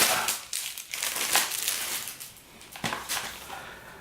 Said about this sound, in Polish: to może najpierw odfoliuję to.